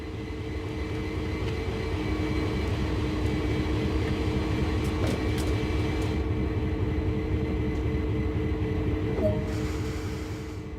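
A steady, rumbling CSX heavy-haul locomotive engine in Train Sim World drones continuously at close range during switching, with faint clanks and a brief squeal near the end.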